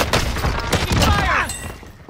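Rapid gunfire bursts in the video game Warzone, with an MP5 loadout in play, crackle close and loud in quick overlapping shots and thuds across the whole moment, with no speech over them.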